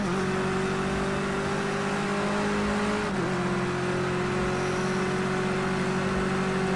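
A touring car in Project Cars 2 races on a wet Bull Ring track, its engine holding a high, steady whine near 7,000 rpm that dips briefly at a gear change, then climbs again.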